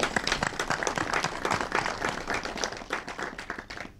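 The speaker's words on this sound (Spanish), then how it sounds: "le pedimos un aplauso a Marcelo" An audience at a talk on geopolitics and religion applauds a speaker named Marcelo. Many crisp hand claps overlap into lively, fairly close applause that thins slightly toward the end.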